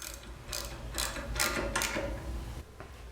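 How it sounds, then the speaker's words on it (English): Close ratchet clicks from a 12mm socket driving bolts while setting up a Grizzly bandsaw, several short bursts of ratcheting over about three seconds with no talk. "Let's get the bolts installed using a 12mm socket."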